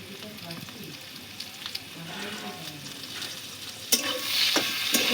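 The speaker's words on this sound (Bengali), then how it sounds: "একটু নেড়ে চেড়ে নেবো।" Ash gourd with salt, turmeric and green chilli is stirred in a pan, soft scraping and gentle sizzling close by, with a brighter sizzle toward the end.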